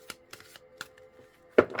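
Several short, crisp riffles of tarot cards being shuffled, spaced irregularly, ending with a louder burst of card noise.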